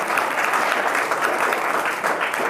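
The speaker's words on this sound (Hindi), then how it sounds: "ताली बजा दो इनके लिए।" Steady applause from a school audience at a Constitution Day general knowledge quiz, clapping for the second-place team, a dense and continuous patter filling the room with no speech over it.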